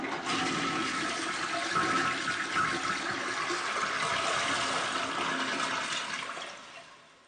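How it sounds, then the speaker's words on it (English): A toilet flushing, one continuous rushing surge of water that holds steady for several seconds at close range, then drains away and fades near the end, with no voices. "I had to flush my goldfish down the toilet"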